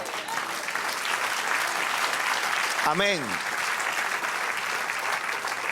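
A church congregation applauds for the Lord in a steady, dense wash of clapping that carries throughout, broken near the middle by a single voice calling out briefly.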